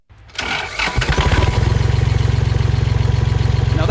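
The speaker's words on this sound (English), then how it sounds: "It's a 4-cylinder diesel tractor." A 4-cylinder diesel tractor engine cranks and fires, rising to a loud, close running sound. It then settles into a steady, evenly pulsing idle with a rapid chugging rhythm.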